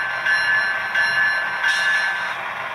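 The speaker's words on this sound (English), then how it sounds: "We'll also sound the bell as well." Bell on a Scaletrains CN ET44AC Tier 4 GEVO model locomotive, rung in a steady repeating pattern of about three clear metallic strikes over a constant electronic hum, fairly loud and alone.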